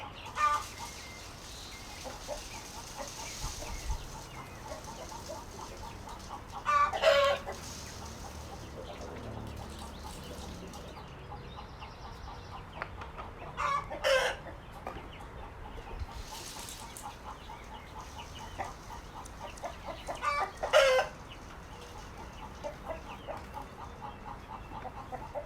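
A flock of backyard chickens clucking as feed is poured into a new feeder, with soft steady murmuring clucks and several louder bursts of excited calls at intervals, no talk over them.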